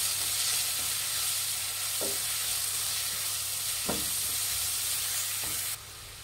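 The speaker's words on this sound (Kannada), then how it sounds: "ಈರುಳ್ಳಿ ಹಾಕೊತಾ ಇದ್ದೀನಿ" Chopped onions fry in hot oil for veg momos filling, a steady close sizzle running throughout with a few sharp spoon knocks against the pan, then the hiss drops off abruptly at the end.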